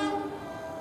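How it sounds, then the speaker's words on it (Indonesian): Pasundan passenger train from Surabaya entering Cibatu station in Garut, heard as a sustained tonal horn or wheel-squeal ringing over a low rumble, loud and close, fading slightly after a moment. "Dengan kereta Pasundan dari Surabaya, memasuki stasiun Cibatu Garut"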